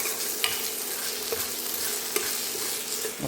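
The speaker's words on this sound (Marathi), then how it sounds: "आता हे चांगलं हलवून घ्यायचं" Potato and pea vegetable being stirred in a steel kadhai with onion paste and garlic, a continuous frying sizzle with occasional sharp clinks of a spoon against the pan, no talking.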